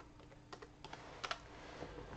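Light, close keystrokes on a Dell laptop keyboard running Windows 10, a short burst of a few taps followed by a couple more over a steady faint hiss.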